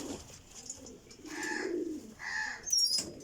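Pigeons coo softly in a few low, rolling calls, with a brief bright chirp near the end, faint against light background noise.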